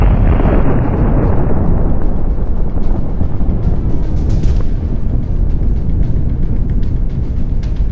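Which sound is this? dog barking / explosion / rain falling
explosion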